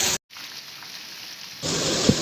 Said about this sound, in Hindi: यह देखो कैसा बारिश गिर रहा है